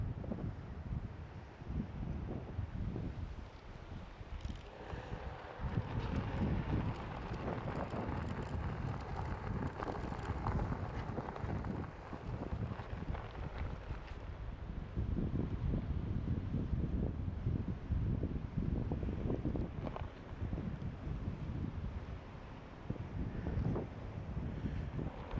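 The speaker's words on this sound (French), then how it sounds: "il y a de nouveau du vent, hein, et pas qu'un peu" Strong gusting wind at the Barfleur semaphore on the Normandy coast buffets the microphone in low, roaring surges that rise and fall over a long stretch, with no voices.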